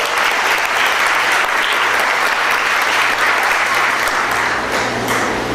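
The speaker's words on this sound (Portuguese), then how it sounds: "vamos aplaudir o Senhor" A church congregation claps steadily and loudly, the applause dense and continuous throughout with no pause, a crowd of hands sustained from start to finish.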